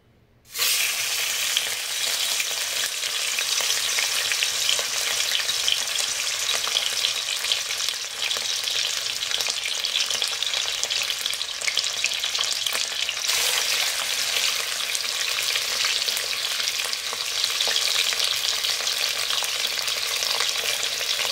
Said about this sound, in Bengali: এখনও ভাজা চলছে কিছু মাছ ভাজা হয়ে গেছে